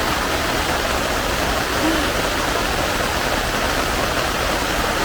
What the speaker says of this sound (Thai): ฟังเสียงฝนตกมาก